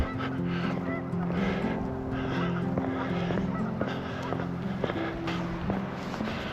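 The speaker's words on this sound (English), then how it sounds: "Noisy geese." Geese honk repeatedly and noisily outdoors on a snowy March walk, a dense overlapping chorus of calls over steady background wash, fairly close and continuous throughout.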